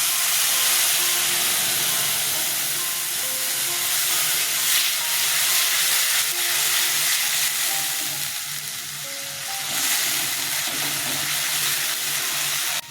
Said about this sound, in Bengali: সাদা জিরে ফোড়নে দিলাম